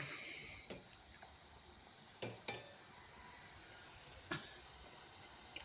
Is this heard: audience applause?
no